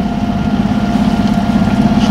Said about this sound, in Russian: не успели мы завести толком мотор и отойти на милю